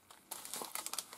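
Sheets of paper pulled from a stuffed envelope crinkle and rustle close by, starting softly and then rising into a busy run of crisp crackles and rattles, with no voices.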